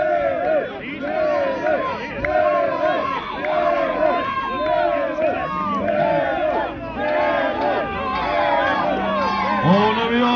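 A dense crowd of spectators roars and chants continuously at a bullfight in Busovača, 2023, with overlapping shouted calls and cheers rising and falling over about ten seconds, loud and close throughout.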